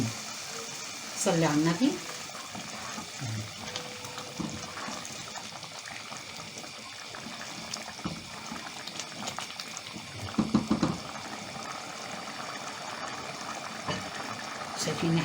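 Rice sizzling and water bubbling in a pot on the stove, a continuous crackling hiss with louder bursts, while someone talks over it.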